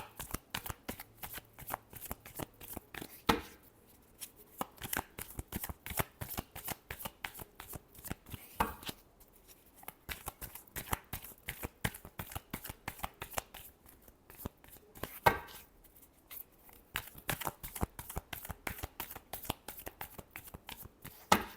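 Tarot cards are shuffled up close in quick, crisp riffles and slaps, repeated bursts of papery flicks with short pauses between them, with no talk.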